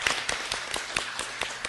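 Audience applause at a stomach cancer talk concert in a hall, a burst of clapping with rapid, fairly even claps lasting under two seconds, moderately loud and without talk.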